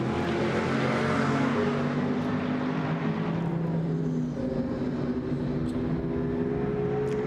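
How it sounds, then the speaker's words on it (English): Mercedes GT race car at Misano circuit during Blancpain GT Sports Club qualifying, its engine giving a deep, steady baritone boom under acceleration, loud and continuous with tonal harmonics drifting as it pulls through the gears. "That Mercedes, just such a baritone boom under acceleration."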